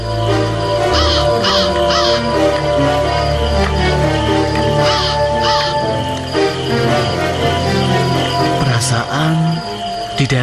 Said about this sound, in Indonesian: tidak ada yang memelihara burung gagak kok